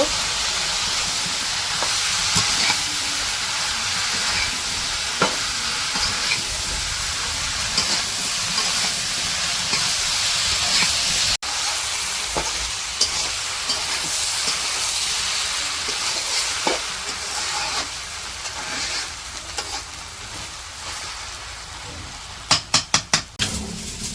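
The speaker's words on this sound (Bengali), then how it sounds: "মাছগুলো একটু কষিয়ে নিব তারপরে হইতেছে লতি দিয়ে দিব" Shrimp and taro stolons sauté in a pan for a village-style dish, giving a steady, close sizzling hiss throughout, with a few sharp utensil clanks near the end.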